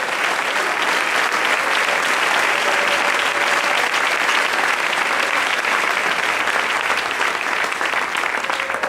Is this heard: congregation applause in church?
yes